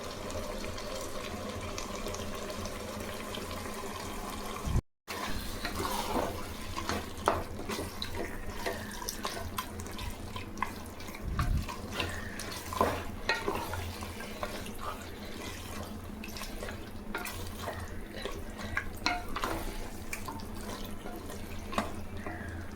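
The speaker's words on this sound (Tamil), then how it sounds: "பாதி எலுமிச்சம்பழம் அந்த கறியில் ஊற்றி கழுவிட்டோம்." Tap water runs steadily into a sink as chicken pieces are rinsed with half a lemon squeezed over them, with splashing and dripping close by, continuous and moderately loud, with no talking.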